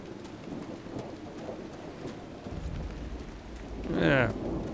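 Steady rain and a rising rumble of thunder in the fantasy role-playing game Dragon Age: Inquisition, a soft wash of rainfall throughout with a louder thunder roll swelling near the end, under faint talk.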